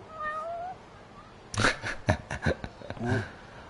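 A cat meows several times in the video game Le Casse, a few thin early cries followed by a burst of louder, close meows and a drawn-out wail.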